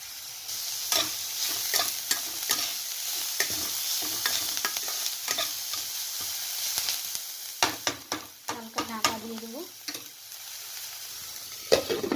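Onions sizzle and fry over ginger and garlic in a lightly oiled pan, a steady crackle broken by repeated stirring scrapes and clinks of a utensil against the metal, with no talking.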